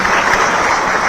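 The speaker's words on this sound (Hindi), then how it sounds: "एक बार जोरदार ताली दिया" Loud applause from an audience, a dense, steady wash of clapping with no pauses, close and strong.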